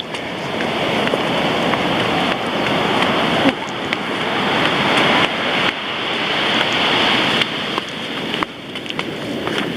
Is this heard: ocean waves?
yes